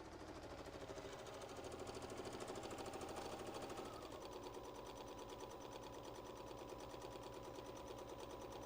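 A Kimberbell quilting machine stitches a quilt with a fast, steady mechanical whirr and rapid needle chatter that runs unbroken, slightly shifting in pitch partway through, with no voices.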